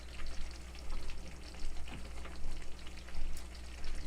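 Smothered pork chops sizzling as they fry in a pan, a dense, steady crackle that swells and eases in waves, close and continuous without talk.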